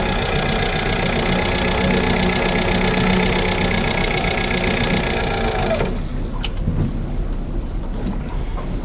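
An electric downrigger on a fishing boat lowers the line to depth with a steady, loud mechanical whir. The motor runs for about six seconds, then stops abruptly, leaving a few faint clicks.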